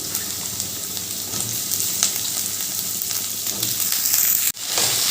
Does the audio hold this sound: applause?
no